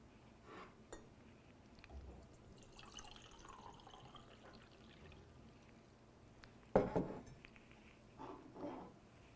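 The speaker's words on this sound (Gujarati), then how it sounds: "એક કપ પાણી રેડ્યું છે મેં" A cup of water poured into a bottle gives a short, quiet splash and gurgle near the end, with a couple of faint drips before and after in a quiet room.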